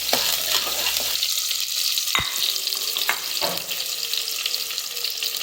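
Onion, curry leaves and dried red chillies fry in hot oil as a tempering for sambar rice, a loud bright sizzle with a few sharp stirring knocks and clatters, close and without talk.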